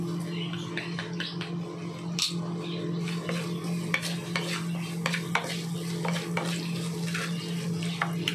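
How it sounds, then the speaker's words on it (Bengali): Garlic and green chilli fry in a pan for garlic rice, a continuous soft sizzle broken by frequent scraping clicks of a spoon stirring, close and fairly quiet. "কাঁচা লঙ্কা রসুন ভালো মতন ভাজা হয়ে গেছে"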